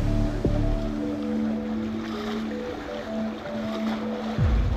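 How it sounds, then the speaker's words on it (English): A traditional voyaging sailing fleet crosses open ocean water after leaving Lamotrek's lagoon. Waves wash and slosh against the hull under steady wind, and sustained musical tones play along with it. "the relative calm of Lamotrek's lagoon, the fleet moves into voyaging position, with Ali and Queen Veronica taking the lead"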